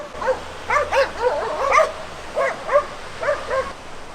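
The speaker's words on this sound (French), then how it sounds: "Chaque fois qu'il y a un véhicule qui passe, ils courent après, ils jappent comme des fous." Dogs on the island of Crete, the kind that chase passing vehicles, bark and yip in a series of sharp, excited bursts. The barks come at close to moderate range over a quiet background.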